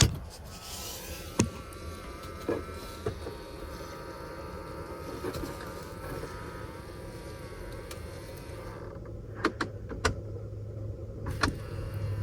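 A Ford Explorer HVAC mode door actuator running behind the dash, a faint whirring motor hum under blower noise, broken by a few light clicks and taps, with the fan droning steadily throughout.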